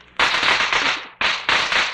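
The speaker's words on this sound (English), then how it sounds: "Look, Penny, the new firecrackers" Strings of new firecrackers in a radio play, sold at ten cents a string, go off as dense, loud crackling bursts in two close runs with a brief gap between them, and no voices over them.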